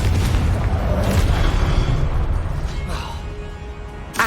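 A Confringo fire spell explodes in the video game Hogwarts Legacy, a loud sustained booming blast with crackling bursts, dense low rumble and a fresh hit at the end.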